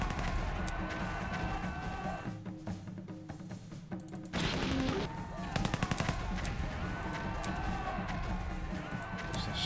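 Machine-gun strafing in the Pacific General war game: rapid, sustained bursts of automatic gunfire and explosive clatter, loud and dense, with a brief lull midway before the firing surges again.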